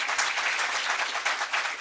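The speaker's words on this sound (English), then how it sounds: "Let's give her a round of applause." Audience applause at a governor's event on youth mental health, a steady dense wash of many hands clapping together, moderately loud and continuous with no voices over it.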